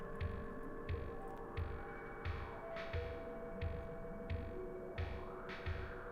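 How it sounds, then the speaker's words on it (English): A motherboard under heavy Ryzen 9 9950X stress-test load gives off faint electrical coil whine: steady tones with a throbbing pulse about every half second and a rising sweep near the end, with no talking. "the board is making some interesting coil whine noises right now"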